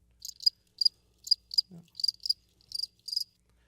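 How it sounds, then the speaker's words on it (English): Crickets chirp in short, evenly spaced pulsing bursts, high and clear against near silence, a few crisp trills over a few seconds, added as a sound effect. "if somebody could put crickets right there when I did that, that'd be great"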